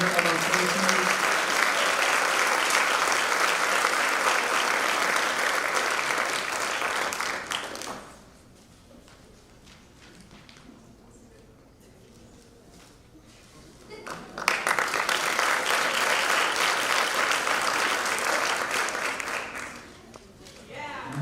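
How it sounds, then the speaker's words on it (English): An audience at a 2022 senior honors night applauds an award winner: about eight seconds of steady, full clapping, then a quieter lull, then a second sustained burst of applause. "let's give a round of applause"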